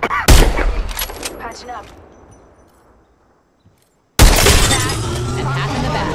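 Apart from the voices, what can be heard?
gunfire in the video game Apex Legends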